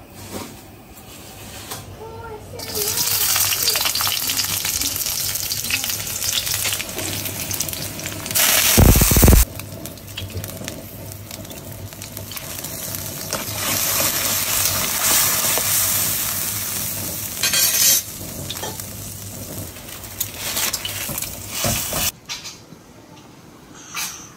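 Steady sizzling and frying of instant noodles with occasional clatters and scraping of utensils in a pan, continuing for a long stretch before ending abruptly.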